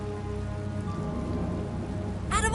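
Steady video game rain patters across a surface with a constant hiss, joined near the end by a brighter rising tone over a low background hum.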